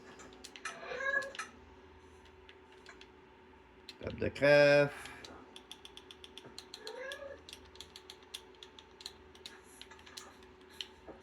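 Minecraft cat meowing in-game, a few short meows amid clicking crafting-table and inventory sounds, with a person talking over parts of the scene.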